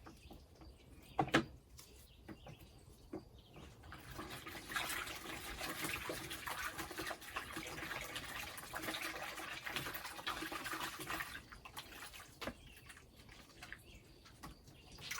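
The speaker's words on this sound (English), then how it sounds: "And I just swish it around in the warm water, which is plain." A white mobility cane's string and stopper swished around in a bucket of plain warm water, a soft steady sloshing and trickling that swells in the middle and fades, with faint background chirps.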